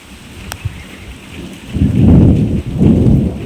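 Heavy pre-monsoon rain in the hot Vaishakh season drumming steadily outdoors, with a deep roll of thunder swelling loud and close midway, no voices.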